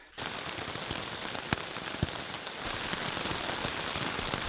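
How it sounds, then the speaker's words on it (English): Heavy rain pours steadily at a backpacking camp in the Pennsylvania Grand Canyon's West Rim, a dense close hiss of drops on a surface with a few sharper taps, loud and continuous after a brief quiet start. "we got to camp here and it just started pouring"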